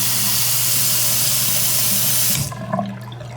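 Hotel bathroom sink tap at a Courtyard by Marriott in Blacksburg, Virginia, with water running in a loud, steady hissing stream that is shut off near the end, leaving a few drips and small clatters.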